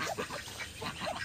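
Several ducks quack repeatedly and overlapping, fairly close, against a constant noisy background.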